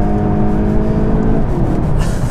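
A Mk8 VW Golf GTI's engine revs hard toward 6,500 rpm in second gear, a loud continuous interior drone that rises and then eases off near the end.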